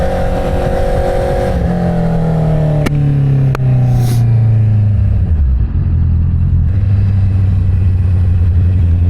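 An inline-four engine car drives and accelerates, a loud close mid-pitched engine drone climbing through the revs, dipping briefly at a gear change, then pulling steadily again, with no talking.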